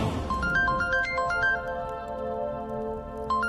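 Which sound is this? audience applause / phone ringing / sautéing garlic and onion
phone ringing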